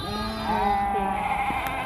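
A sheep bleats once, a wavering, nasal call heard close and clear against a quiet farm background.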